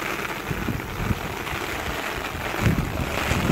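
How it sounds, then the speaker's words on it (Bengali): Heavy rain pours onto a river in the Sundarbans as a dense, continuous roar of wash and splatter, loud and close, with gusty wind buffeting through it and no voices. "খুব জোরে কিন্তু বৃষ্টি হচ্ছে, আর মনে হয় নদীর দিকে বৃষ্টিটা বেশি হয়"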